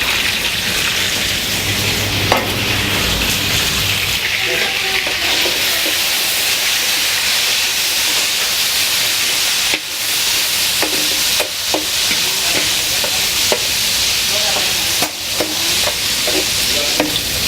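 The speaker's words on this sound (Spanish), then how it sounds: "Mantenemos el fuego suave para sofreír la bachoqueta hasta que vemos que también coge un color dorado" Meat and flat green beans fry together in a pan over gentle heat, giving a steady close sizzle with frequent stirring and scraping clicks throughout, and no talking.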